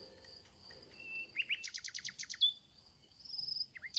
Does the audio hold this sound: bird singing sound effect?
yes